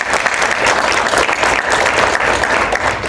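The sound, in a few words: audience applause for the panelists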